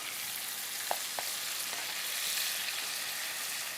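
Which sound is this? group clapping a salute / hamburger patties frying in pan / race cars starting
hamburger patties frying in pan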